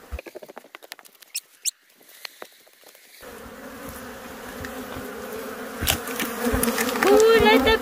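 Killer bees buzz steadily from a hive box during beekeeping, a faint scattered drone at first that swells into a loud, continuous swarm hum close to the listener.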